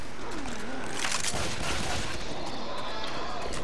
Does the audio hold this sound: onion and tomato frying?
no